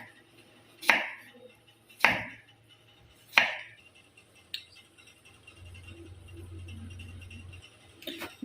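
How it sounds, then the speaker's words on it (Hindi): Fresh cucumber being cut for a salad: three sharp, evenly spaced knife chops on a board, then a softer tap and a low hum before one last cut, close and alone. "व्यूवर्स इसके बाद खीरा जो हम ये काट लेंगे।"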